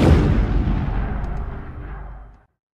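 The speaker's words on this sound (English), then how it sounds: "the sounds of bombs and cannons replaced the cheers of fans across Europe" A wartime artillery or bomb blast in Europe hits as a single heavy boom, then rolls away in a long rumbling decay that fades out over about two seconds.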